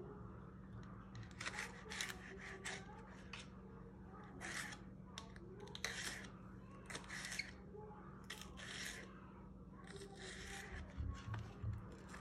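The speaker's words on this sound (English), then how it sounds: "gonna cut our green chili" A knife cutting a green chili on a cutting board, with repeated short scraping and slicing strokes in bursts over a low steady hum, fairly faint.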